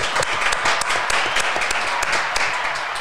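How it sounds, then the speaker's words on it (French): Warm audience applause after a spring poetry-festival performance, dense and continuous with sharp individual claps standing out, moderately loud throughout. "Applaudissements plus que nourris."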